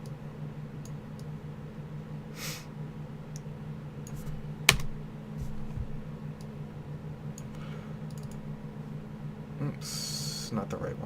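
Keys clatter on a computer keyboard while erasing lines of game event code, soft irregular taps with a sharper burst near the start, over a steady low hum; a voice talks through part of it.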